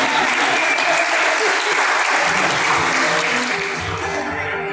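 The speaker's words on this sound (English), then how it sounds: "We need to make sure we give them a round of applause" A loud, dense round of audience applause for the Ghostbusters at a charity event, sustained clapping throughout with a faint voice underneath, easing off slightly at the end.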